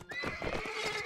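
Cavalry horse in Mount & Blade neighing sharply, a brief close whinny mixed with hoof clip-clop during a battle.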